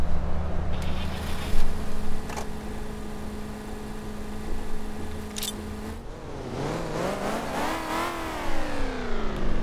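A Corvette ZR1 engine in the City Car Driving video game idles with a steady drone, then revs repeatedly in rising and falling sweeps during the second half, heard from outside the car with no talking.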